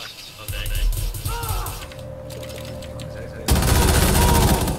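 Automatic gunfire in Rainbow Six Siege, a dense crackling burst of rapid shots that grows louder and closer toward the end, mixed with game mechanisms and some talk.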